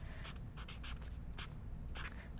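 A pen writes on vellum paper in a Bible journal, giving close, scratchy strokes in quick separate bursts with brief pauses between them over a low background hum.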